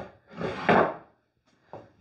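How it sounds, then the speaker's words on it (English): Wooden drawers on a restored 1880 walnut washstand slide open and shut, a smooth rubbing glide that swells to a louder scrape, a pause, then a short second push, close and alone. "Drawers slide beautifully."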